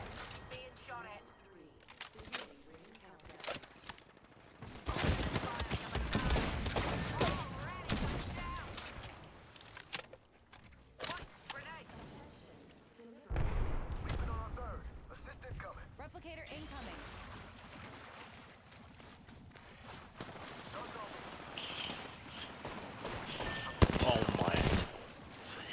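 Bursts of rapid automatic gunfire and single shots crackle in the Vantage shooter game, arriving in clusters at varying distances and loudness, with players talking between and over the shots.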